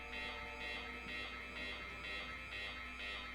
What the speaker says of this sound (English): The small loudspeaker robots were now in alarm mode.